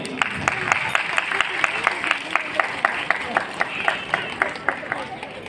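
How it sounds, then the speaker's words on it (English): An audience at a school prize-giving applauds a first-position class winner: a steady, rhythmic clapping at moderate distance, the claps falling in an even beat throughout, with a light murmur of crowd noise beneath. "Please give a big round of applause for him."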